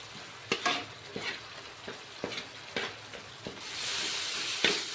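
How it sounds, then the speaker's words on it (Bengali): Spice masala of ground coriander, cumin and turmeric frying in a pan for a rui fish kalia: a steady sizzle under rhythmic scraping stirs of a spatula, close and with no talking. "ধনে জিরে হলদি সব কিছু দিয়ে দিয়েছি এবার মশলাটাকে ভালো করে ভেজে নেব"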